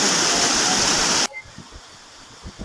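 Water gushes loudly and steadily from a stream source above a scenic spot with houses nearby, rushing close by for just over a second before cutting abruptly to quiet background.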